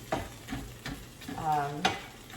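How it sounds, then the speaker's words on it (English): Food is stirred in a frying pan, with a soft sizzle underneath and a few distinct scraping strokes spaced through the moment, close and fairly quiet. "So that's got a little stir."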